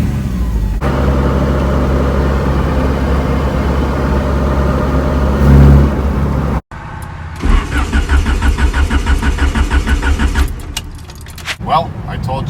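Keys jangle and a car engine cranks and catches, settling into a loud, close rhythmic idle with pulsing revs; the car has sat unused for about three weeks, and a voice speaks near the start.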